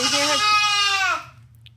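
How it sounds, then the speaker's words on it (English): A lonely Nigerian Dwarf goat kid bleats once, a loud, close, wavering cry that holds for about a second before breaking off, over a low steady hum. "lonely sad goat will just do this all day"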